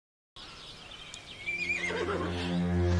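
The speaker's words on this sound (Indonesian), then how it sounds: "Tiba-tiba Shoyu mendengar suara kuda." A horse neighs, a clear rising whinny that starts after a short silence and trails off into low, steady tones.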